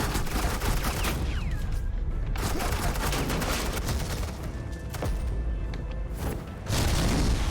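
Suppressing gunfire in a Batman video game, dense continuous volleys of shots and booms filling the whole stretch, loud and close with barely any pause.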